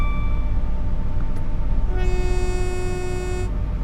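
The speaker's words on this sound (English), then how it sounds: "Let people know we're coming through the station. Stand away from the platform because we are hooting through here at 93 miles an hour." A Class 166 diesel train in Train Sim World 2 sounds its horn with one loud, sustained two-tone blast over a steady engine rumble as it runs through a station at 93 mph in the rain.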